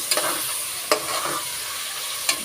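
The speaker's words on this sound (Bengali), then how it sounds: "যে হালকা গাজরটা ভেজে নিলাম" Carrots fry in a hot pan for fried rice, a steady sizzle broken by a few sharp scrapes and clacks of a stirring utensil.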